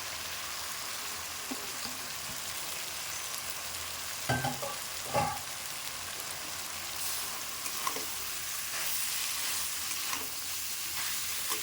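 Cabbage added to a pan of fried potatoes gives a steady, even frying sizzle close by, with a few louder clatters of stirring partway through and no talking.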